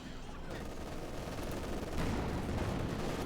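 MG4 machine gun in the strategy game Company of Heroes 2: continuous rattling gunfire mixed into a dense, loud battle din with explosions.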